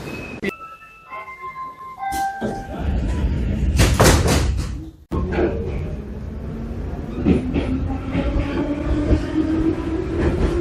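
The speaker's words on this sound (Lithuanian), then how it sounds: "Šoksim į šitą traukinuką." Rattling noise of a crowded train in Tbilisi, Georgia, with a door sliding and slamming shut, then the rumble and squeal of the carriage in motion, with voices in the background.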